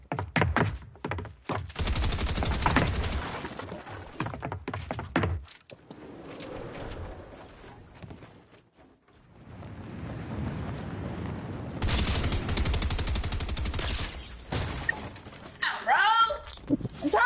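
Rapid SMG fire from a video game rattles in long sustained bursts, loud and near, with the shooting breaking off into gaps and then starting up again.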